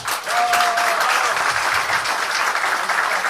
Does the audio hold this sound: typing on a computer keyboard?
no